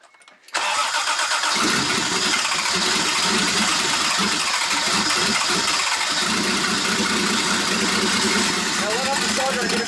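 A rebuilt Toyota 7MGTE engine cranks briefly, catches and roars into a loud, steady idle that holds close and continuous to the end, with a faint voice under the running engine.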